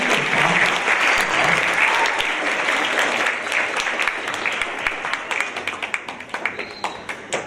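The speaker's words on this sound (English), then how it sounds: "Let's give Sam another round of applause" Sustained audience applause for speaker Sam at a Central Mississippi event, a dense wash of clapping from a sizeable crowd that thins toward the end into scattered individual claps.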